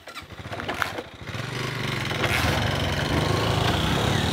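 Motorcycle engine that had stalled during a fishing trip in Ceará cranking and catching, settling into a steady, rough, buzzing idle close by.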